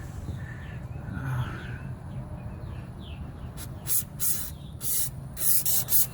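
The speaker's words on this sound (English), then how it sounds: "I guess I'll just go ahead and spray it." Several short hissing bursts of aerosol spray cleaner in quick succession, cleaning the starter area of a 7.3L diesel Ford F-250 truck, after a stretch of faint outdoor ambience with distant birds.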